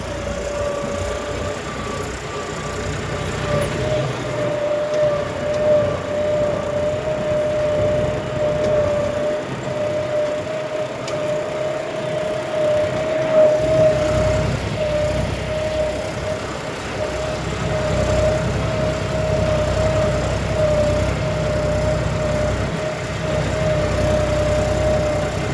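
A John Deere 4x4 tractor works through hard, cloddy farm soil, its engine a steady, droning roar with a constant humming tone that rises and falls slightly in load over a long stretch, with no talk.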